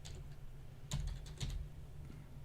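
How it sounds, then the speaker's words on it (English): Keys clatter on a computer keyboard in a few quick bursts while something cryptocurrency-related is typed in, close and moderately loud over a steady low hum, with no talking. "So if we just type that in."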